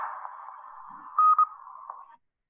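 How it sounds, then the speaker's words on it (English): A two-tone Morse code N, da-dit, plays over a ham radio repeater net: a steady long tone, then two short brighter beeps and a brief final blip. It rings clear and alone before cutting to silence. "That's two tones for da-dit, Morse code N"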